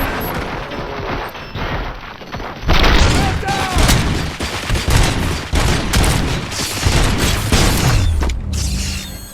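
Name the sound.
gunfire in the video game RoboCop: Rogue City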